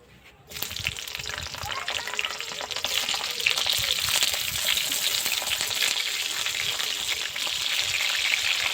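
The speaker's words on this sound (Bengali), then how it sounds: "প্রথমে ফুলকপিটা ভেজে নেব।" Cauliflower frying in oil for a Bengali mixed vegetable dish, a loud, dense sizzle that bursts in suddenly after a brief quiet start and keeps crackling steadily up close.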